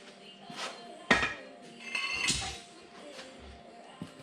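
Brake rotor being worked off the hub of a 1987 Dodge Colt, with faint scattered metallic clinks and a few sharper knocks close by, irregularly spaced in a quiet workspace.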